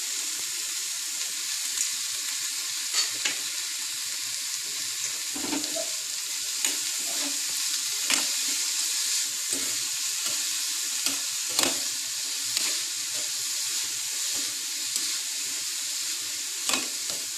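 Carrots with salt frying in a pan alongside green peas, a steady soft sizzle with intermittent stirring clinks and scrapes throughout, close and moderately quiet.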